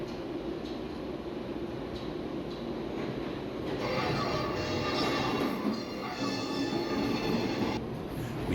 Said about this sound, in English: hear the trains coming in making that weird noise that they do